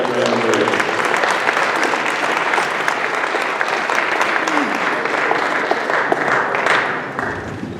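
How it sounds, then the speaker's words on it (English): A boxing crowd gives sustained, loud applause for retiring boxer Brandon Rios, dense clapping and cheering that tapers off toward the end. "Please, round of applause for Brandon Bam Bam Rios."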